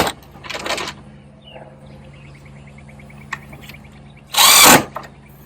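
A power drill drives silver screws into pocket holes while a knock-down double dog kennel is assembled: two short, loud whirring bursts close by, separated by a few seconds of quiet.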